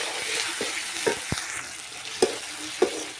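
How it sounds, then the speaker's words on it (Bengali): Spices and chopped tomato sizzle steadily in a pan while a spatula stirs, giving several sharp scrapes and taps spread across the few seconds, close and fairly loud. "এবারে আমি মশলাটাকে কষিয়ে টমেটোটাকে কিন্তু গলিয়ে নেব।"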